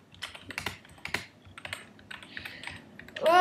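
Keys clatter on a computer keyboard in quick, uneven bursts, close and fairly quiet, with a louder clack at the very end; no one talks over it.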